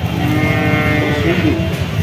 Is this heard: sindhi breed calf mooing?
yes